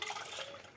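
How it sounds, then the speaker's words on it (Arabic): Milk poured into a container while making homemade Moroccan raib (set yogurt), a brief close liquid splash and fill lasting under a second, with no talk. "وهنا غندير نص كيطرة الحليب اخر"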